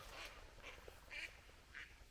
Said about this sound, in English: There goes the ducks.